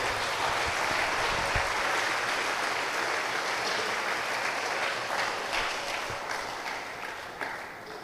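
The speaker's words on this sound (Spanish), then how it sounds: "Dale un aplauso a Jesús." A church congregation bursts into long, even applause, a thick wash of many hands clapping together that slowly fades over several seconds, with no voice standing out.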